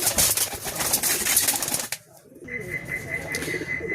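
Rustling and flapping of pigeons close by, then a brief lull followed by soft cooing and a steady high tone in the background.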